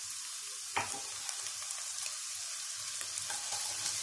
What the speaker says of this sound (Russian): В сковороду добавляю 10 грамм сливочного масла и туда же отправляю